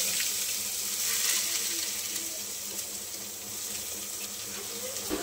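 Chopped onion hits a hot pan of curry leaves and cumin and fries with a faint, steady sizzle and hiss, fairly quiet and continuous.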